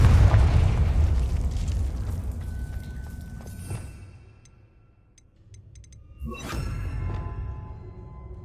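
A Confringo spell blast in Hogwarts Legacy rumbles as a loud, booming explosion that decays over several seconds, followed after a brief quiet by a second sharp burst with a whooshing crackle.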